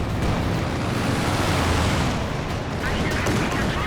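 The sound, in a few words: bombing run explosions and gunfire in Company of Heroes 2 video game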